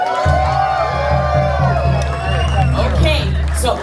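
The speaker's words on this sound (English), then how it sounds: "If you think he's right, let me hear you cheer." A dinner-show audience at a Polynesian dinner show cheers and whoops loudly throughout, a dense crowd roar with a few shouted voices over steady low background hum.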